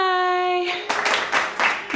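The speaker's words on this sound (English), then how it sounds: "are you clapping?" A baby clapping small hands at home on Christmas while opening a present, a few soft uneven claps mixed with adult cheering voices and a sustained tone early on.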